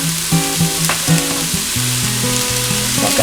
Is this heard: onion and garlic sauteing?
yes